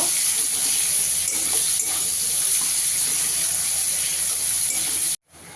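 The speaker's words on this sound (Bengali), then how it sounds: "পেঁয়াজ কুচিটা দিয়ে দেবো। পেঁয়াজটা দিয়ে একটু ভেজে নেব।" Chopped onion sizzles in hot oil in a pan, a steady loud frying hiss that runs unbroken before cutting off abruptly near the end.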